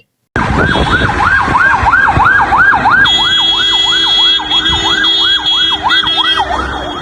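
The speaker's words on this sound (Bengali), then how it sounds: "ওই তো অ্যাম্বুলেন্সটা হেরা আনতে গেছে" An ambulance siren wails in a steady, rapid up-and-down sweep, loud and close, over road traffic noise with a high steady tone joining partway through; no talk.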